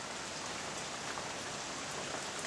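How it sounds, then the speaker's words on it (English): Steady rain falls on a cold day, a constant soft wash of drops on surfaces, even and unbroken, fairly quiet and distant, with no voices. "It's cold, it's rainy."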